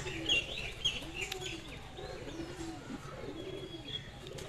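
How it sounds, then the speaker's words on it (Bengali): A male Teddy pigeon coos in a soft, repeated rhythm of low rolling phrases, close and moderately quiet, with faint chirps from other birds in the background. "এই হলো মেল কবুতরটি, ফেস অফ বিউটি"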